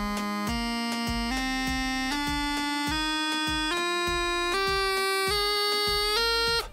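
A bagpipe climbs a scale one note at a time, about nine steady droning tones with the drones sounding continuously beneath the chanter, loud and close with no talking.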